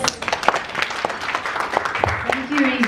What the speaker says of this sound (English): please give a round of applause to Marketing Manager of Alcatel, Ms. Patricia Paredes.